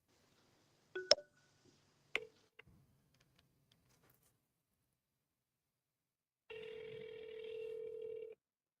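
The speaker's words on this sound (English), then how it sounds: "I'm calling his cell phone." A cell phone is being dialed, with a few isolated taps and clicks followed after a pause by a steady electronic tone held for about two seconds, faint and without talk.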